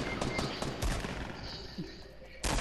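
Gunfire in Fortnite crackling in a rapid, fairly faint sequence of sharp shots during the first second, then quieter ambience and another burst at the end.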